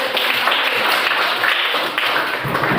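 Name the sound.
classroom children clapping hands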